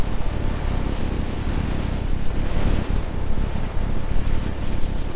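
Storm wind roars high overhead in a steady, heavy, blustery wash of noise that swells and eases slightly but never stops, loud and near throughout with no voices.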